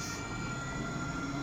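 A Nottingham NET tram pulls away at Basford, a steady low rolling rumble with faint motor whine, continuous and moderately distant, no voices.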